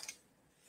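Scissors cut through heat transfer flock material for decorating a throw pillow, giving a couple of quick, crisp snips right at the start before near silence.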